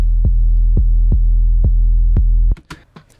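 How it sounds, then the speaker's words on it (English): A sub bass synth patch for drum and bass drones as a deep, loud sustained hum, with soft rhythmic pulses repeating roughly every half second before it cuts off abruptly into brief clicks and rustle. "It sounded better with this sub bass patch."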